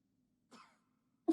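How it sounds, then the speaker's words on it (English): A man coughs in an episode of Avatar: The Last Airbender, a single short raspy cough over a faint low hum, followed by a sharp sudden sound at the end. "Man coughs."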